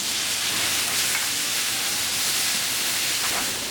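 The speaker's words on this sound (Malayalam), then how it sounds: "മല്ലിയിലയും പുതിനയിലയും ഇതിലേക്ക് ചേർത്ത് വഴറ്റി കൊടുക്കാം ഇതോടൊപ്പം തന്നെ വേഗിച്ച് വെച്ചിരിക്കുന്ന കടലപ്പരിപ്പ് ഇതിലേക്ക് ചേർത്ത് വഴറ്റി കൊടുക്കാം" Soaked chana dal with fresh coriander and mint leaves sautéing in a pan for a stuffed chicken filling, giving a steady, close, even sizzle and hiss that runs throughout with no talking.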